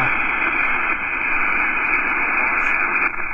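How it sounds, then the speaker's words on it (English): Wide-bandwidth radio background noise passed through a WolfWave digital signal processor: a loud, steady hiss and static wash that stays constant throughout, with faint faded signal traces buried in it. "I've brought the width way up, and you can hear all the noise and stuff in the background."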